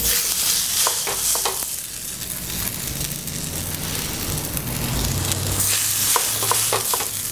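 Grated potato pancakes frying in hot oil in a pan, a steady close sizzle with scattered sharp crackles and pops throughout, loud and alone.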